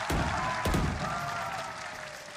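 A large esports arena crowd at VALORANT Masters Tokyo breaks into sustained applause and cheering, a dense, loud wash of clapping that slowly tapers off.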